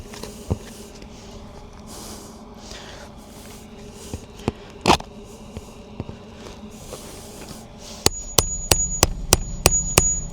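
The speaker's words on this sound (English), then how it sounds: "so I can hammer it up under there" A handful of scattered knocks and shuffling, then a quick run of about seven sharp metallic hammer strikes in steady rhythm, close by, as a hammer claw is driven up under a roof shingle to remove a nail.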